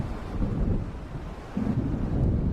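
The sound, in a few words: thunderstorm in video game Alan Wake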